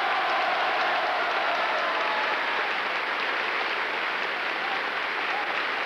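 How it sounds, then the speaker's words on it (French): A long, unbroken ovation from a large crowd saluting Stalin, thick continuous clapping that holds at a steady level from start to finish, heard alone without speech. "L'ovation qui salue Staline est particulièrement longue."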